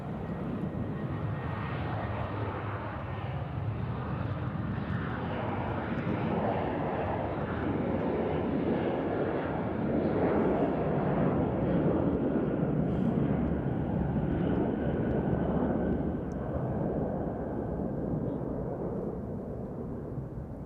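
An Amazon cargo plane departs runway 2 Left at Nashville International Airport, its engines a loud, steady broadband roar that holds throughout and swells slightly in the middle, heard at a distance with no voices over it.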